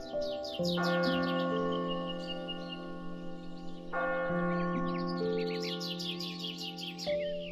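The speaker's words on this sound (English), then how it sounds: "It began with church bells echoing across the valley and birds chirping in the crisp air." Church bells in a Swiss valley ring out in long, resonant tolls that overlap and echo, while birds chirp and tweet steadily above them throughout.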